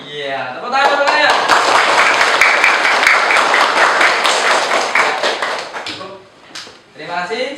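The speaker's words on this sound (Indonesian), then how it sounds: "Iya, tepuk tangan, tepuk tangan." A room full of children clap their hands together in a dense, steady burst of applause that fades near the end, with an adult voice briefly heard before and after.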